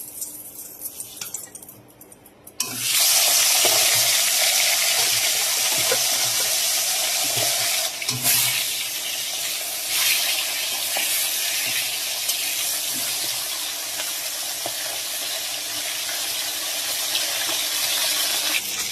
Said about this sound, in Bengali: দেখো মাথাগুলো আমি লাল করে ভেজে নিয়েছি